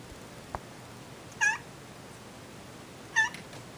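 A cat meows twice, a few seconds apart, each call short and fairly faint against a quiet room, with a soft tap heard just before the first.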